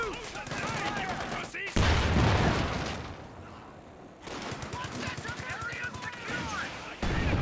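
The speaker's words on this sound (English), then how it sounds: "Sherman HE rounds, not having much success there." Sherman tank HE rounds firing in the World War II strategy game Company of Heroes 2, repeated loud gunfire bursts and impacts amid battle noise, with a spoken voice over parts of it.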